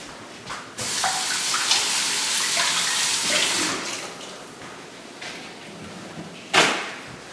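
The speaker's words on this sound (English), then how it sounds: "I gotta wash my hands." Tap water runs steadily at a kitchen sink while hands are washed, a broad close splashing hiss lasting several seconds that eases off, with a brief knock and a short final burst of water near the end.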